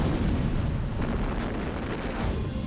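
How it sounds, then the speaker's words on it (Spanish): A violent, continuous roar of an explosive detonation sweeping across two metal plates during explosion welding, dense and loud throughout with no pauses. "Así comienza la explosión, que atraviesa toda la superficie uniendo las dos piezas."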